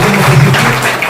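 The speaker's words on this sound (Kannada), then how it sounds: "ಒಂದು ಜೋರಾದ ಚಪ್ಪಾಳೆ" Crowd clapping at a Vijayapura district panchayat felicitation event, a short burst of loud applause with a low hum of voices underneath.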